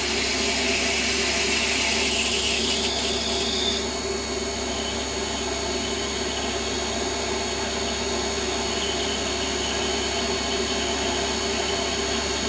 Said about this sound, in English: So I'm going to change now to the tapping drill for the M5, and I'm going to drill in 20 mil